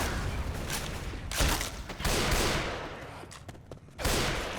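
Gunfire in the Left 4 Dead 2 zombie shooter, several loud bursts and single shots cracking in uneven succession, close and harsh over background game noise.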